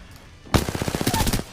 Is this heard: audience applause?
no